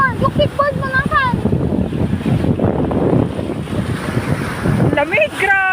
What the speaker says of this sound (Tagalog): Lamig, grabe yan, ang lakas ng hangin.